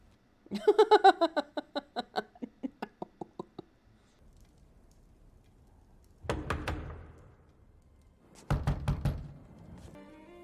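A rapid series of sharp knocks on a door, fading quickly, followed later by two short bursts of louder knocking.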